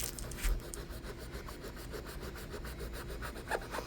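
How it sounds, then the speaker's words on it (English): Steady rubbing and scrubbing strokes work at stains on a boat surface, a continuous rasping, scratchy texture with regular rhythmic passes, close and moderately loud throughout. "trying to get the rest of these stains off here"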